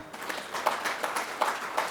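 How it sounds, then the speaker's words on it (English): Audience at the Bridge 2016 campus-to-corporate conference breaking into applause, a steady patter of many hands clapping with a slightly uneven rhythm, moderately close. "Give them a big clap."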